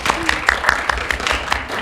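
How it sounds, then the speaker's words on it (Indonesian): Applause at a high school student organization event, a short round of rhythmic clapping with regular hand strikes, while a voice talks over it. "tepuk tangan lagi dong."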